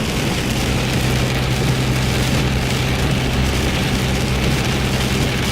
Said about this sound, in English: as you can see, it's raining pretty good